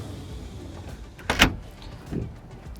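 A sliding rear door on an Axopar 45 boat slides along its track, a single short rushing scrape with a softer knock after it, faint and close against quiet background hum.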